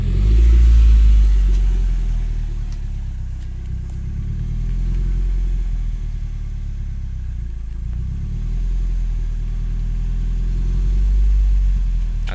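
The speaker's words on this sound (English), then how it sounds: "I do the rev thing again. Rev it hard." A Nissan S14 engine revs hard, loud and close, rising and falling in several slow low-pitched swells over a deep rumble, with no talking.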